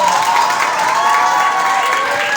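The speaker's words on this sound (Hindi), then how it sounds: "जोरदार ताली ये भी लगी है।" Audience applause at a college cadet social night festival, a dense steady wash of clapping mixed with crowd cheering that fills the whole moment at close range, with no speech over it.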